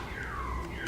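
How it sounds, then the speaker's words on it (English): A car alarm wails faintly in the distance, a slow sweeping siren tone under a steady background hum. "there's a car alarm in the background"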